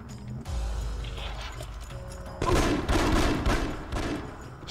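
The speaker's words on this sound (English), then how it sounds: "I hear gunfire." Rapid bursts of gunfire in The Conduit on Nintendo Wii crackle over a steady rumbling background, dense and continuous, growing louder partway through.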